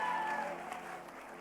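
A church congregation claps in applause during a sermon, a dense burst of hand claps that gradually thins and fades.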